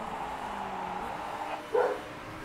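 A dog barks once, fairly near, after a steady background hum, with a short yelping bark standing out near the end.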